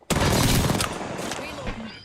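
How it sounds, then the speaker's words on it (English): A grenade explodes in a first-person shooter video game: a sharp loud burst followed by a rumbling, crackling decay, with brief gunfire-like pops and faint voices. "Contact. Grenade flung. Grenade."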